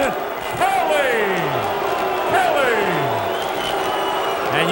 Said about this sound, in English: you can hear the crowd reaction